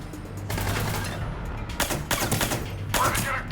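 Bursts of gunfire in Mass Effect 3, several loud rattling volleys in quick succession, close and harsh, with no talk.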